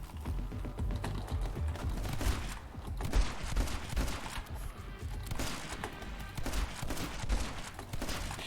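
Rapid bursts of gunfire from the video game My Friend Pedro, dense and continuous with clicky staccato shots layered over game music, with no talk.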